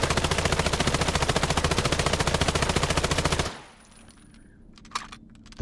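Rapid full-auto weapon fire in Islands of Nyne, a steady, loud stream of evenly spaced shots that cuts off abruptly, followed by a quiet pause and a couple of faint clicks.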